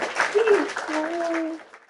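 Scattered clapping from a group runs beneath a person talking, steady and moderately loud before fading out.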